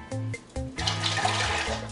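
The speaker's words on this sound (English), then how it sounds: "What I'm gonna do is I'm gonna pour both broth together." Tripe and pork broth poured together into a cooking pot for Nigerian okro soup, a close splashing gush of liquid in short bursts followed by a steady pour.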